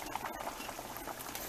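Dry lima beans boil in a pot, steady close bubbling and soft popping with a gentle liquid patter, alone with no talk.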